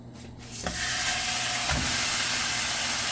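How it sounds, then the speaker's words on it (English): A beef rump roast is seared in a hot pan, starting with a quick clatter as the meat goes in, then a loud, steady sizzling hiss of frying that holds close and continuous, with no one talking. "heating this up, and I'm just gonna do a sear, pretty quick sear"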